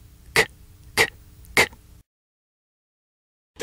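A voice imitates a camera's shutter click with three short, sharp clicking bursts evenly spaced, followed by silence and the start of another sound at the end.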